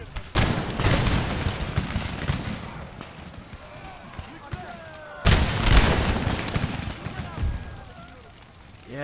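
Troop volleys and cannon booms in Empire Total War with Darthmod, Ottoman battle at Tbilisi: two big loud blasts that decay into rumbling, crackling gunfire and battle din, with a voice talking over it.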